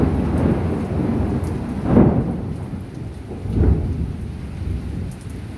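Low thunder rolls and rumbles twice, well spaced, over steady rain during a lightning storm at a surf spot in San Juan, La Union.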